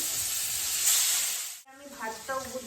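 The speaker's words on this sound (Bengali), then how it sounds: "রুই মাছটা আমি ভেজে নেবো" Rohu fish pieces frying in a pan give a loud steady sizzle that cuts off abruptly, followed by a few faint tonal clinks.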